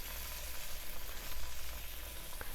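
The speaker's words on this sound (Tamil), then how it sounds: "எண்ணெய் சூடாகவும் இப்படியே அந்த 4 விரலில் எடுத்து அப்படியே போடுவோம்." Masal vada batter dropped into hot oil, producing a soft, steady sizzle and bubbling at close range with no voices.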